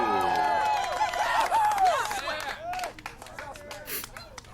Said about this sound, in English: Everybody who thought Vicious Swagger won,